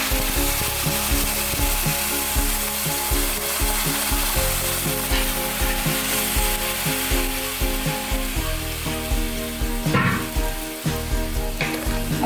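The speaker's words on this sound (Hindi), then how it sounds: "अब इसमें यखनी डाल रही हूँ मैं" Yakhni stock poured into a pot of fried mutton, with a loud, steady sizzle and bubbling throughout, plus occasional clatter of a utensil against the pot.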